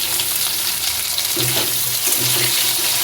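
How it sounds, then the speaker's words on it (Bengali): Potatoes frying in oil with salt and chopped tomato, a steady close sizzle with rhythmic stirring scrapes in the pan, with no voices. "টমেটোটা আলুর সাথে ভেজে নেওয়ার পর দিয়ে দিচ্ছি হলুদ।"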